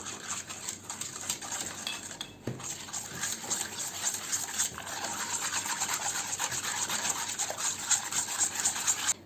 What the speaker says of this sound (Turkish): Güzelce malzemelerimi karıştırıyorum.